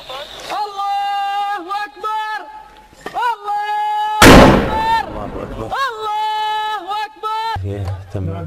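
A single loud, sharp artillery cannon blast firing a shell, a broad burst of noise, surrounded by steady singing or chanting voices before and after, during fighting in rural Hama, Syria.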